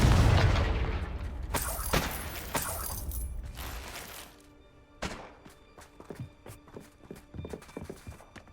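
A Confringo blasting spell erupts in a Hogwarts Legacy game scene, opening with a loud, booming burst that rumbles and decays over several seconds, followed by scattered thuds and clanks of falling debris.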